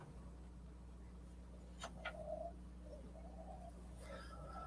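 A mother myna bird inside a room gives a few faint, short calls and chirps, scattered and sparse over a quiet background hum.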